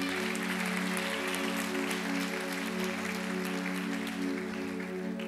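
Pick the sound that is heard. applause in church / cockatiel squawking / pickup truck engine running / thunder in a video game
applause in church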